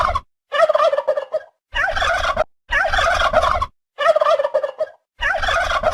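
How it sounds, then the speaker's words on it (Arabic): A turkey gobbles loudly and nearby in five separate bursts of throaty, warbling gobbles, each set apart by short silences, with no talking. "ديك رومي."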